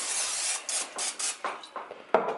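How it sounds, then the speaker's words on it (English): Cooking oil sprayed from a can into an air fryer basket while preparing pickles: a series of short, close hissing bursts of uneven length, the last one sharper, with no talking. "I'm just going to go ahead and spray this into this basket here."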